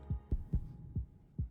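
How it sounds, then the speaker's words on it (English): A deep heartbeat sound effect from a song pulses five times in an uneven double-thump rhythm, soft and low, with a faint sustained musical backing. "just that heartbeat there."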